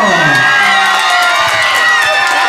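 A crowd of young children cheers and whoops loudly for Gelson at a fourth birthday party, with high-pitched shouts overlapping in one continuous close roar.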